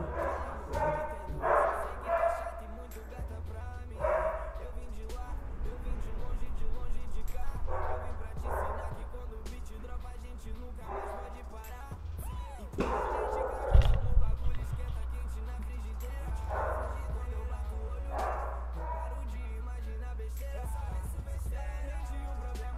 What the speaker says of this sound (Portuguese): Minha cachorra vai começar a gritar.